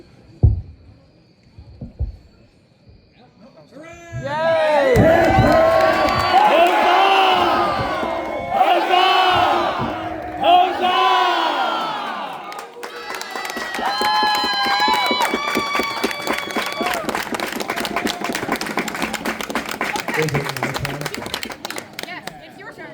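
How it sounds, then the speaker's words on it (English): A crowd at a Belegarth Seneschal Guild ceremony cheers and whoops loudly in sustained bursts, then breaks into steady, dense applause that runs on for several seconds after a few quiet voices at the start. "All are welcome to cheer."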